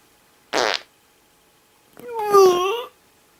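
Two cartoonish fart sound effects in a cinema-themed comedy skit, a short sputtering burst followed by a longer, wavering, drawn-out squeal, each loud and isolated against silence.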